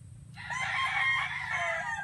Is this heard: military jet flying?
no